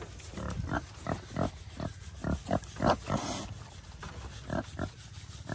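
A big pig at an animal sanctuary grunts repeatedly at close range, short rhythmic snorts and oinks with a few rustling, rasping sounds in between.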